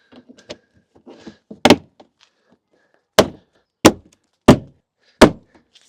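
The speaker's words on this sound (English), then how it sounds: "That's the door card back on." Door card on a VW Scirocco being pressed back onto the door, giving five sharp, close thumps at uneven intervals after some softer rustling and handling noises.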